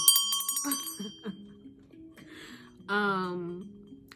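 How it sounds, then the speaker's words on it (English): A heart chakra bell rings out clearly at the start with a long shimmering decay, and a second tone swells up near the end while a person talks softly in between. "It's the heart chakra bell."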